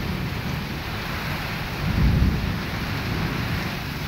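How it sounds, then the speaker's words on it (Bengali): Heavy downpour in Gazipur, a dense steady roar of rain with a low rumble of thunder swelling midway, no voices. "আপনারা দেখেন প্রচুর বৃষ্টি হতেছে"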